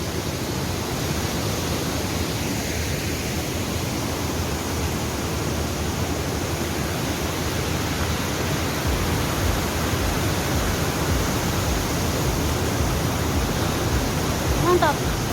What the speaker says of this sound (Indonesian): Air terjun Sringo-Ringo.